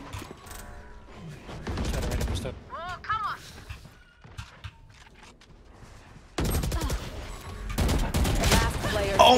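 Valorant match with bursts of rapid gunfire and single shots mixed with ability effects, footsteps and game announcer voices, loud and close throughout.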